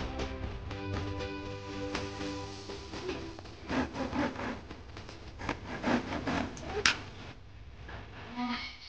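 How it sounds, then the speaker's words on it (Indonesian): A hand saw cuts through wood outdoors, with rough rasping strokes that come in irregular bursts and grow stronger partway through, set against a background of low voices and ambient noise. "kayu dipotong dengan menggunakan gergaji"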